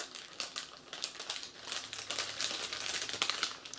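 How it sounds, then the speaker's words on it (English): A small plastic bag wrapped around a solid milk chocolate Easter bunny is folded down at the top and crinkled, producing quiet, rapid crackling rustles up close. "fold down the bag, the top, and put a little sticker on the back"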